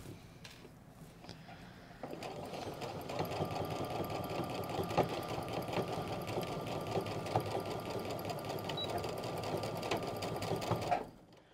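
A sewing machine stitches the side seam of pull-on pajama pants, starting with a brief back stitch and then running in a steady, close whir of rapid needle strokes for about nine seconds before stopping.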